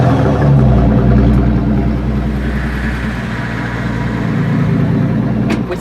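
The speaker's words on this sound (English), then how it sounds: "This is a V12 bit turbo Maybach engine." A Maybach Exelero's 700-horsepower V12 biturbo engine runs with a deep, steady idle rumble, close and loud, shifting slightly in tone midway before settling back into an even drone.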